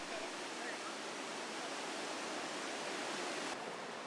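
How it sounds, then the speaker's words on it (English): Rushing river rapids where the St. Lawrence and Ottawa rivers meet, heard as a steady, dense roar of white water that stays even and continuous throughout. "There are such intense rapids because this is where the St. Lawrence and Ottawa River meet"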